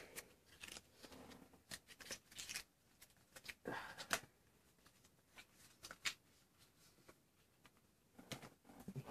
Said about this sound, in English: And let's open this up.